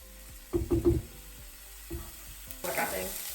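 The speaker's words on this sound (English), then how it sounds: "we're going to stir that until these onions become translucent. So it'll take a few moments for that, and while that, you begin to hear the sizzle" Chopped onions sizzle in a pan while being stirred, with a faint frying hiss under a few clunking utensil knocks and scrapes, then a brighter burst of sizzling near the end.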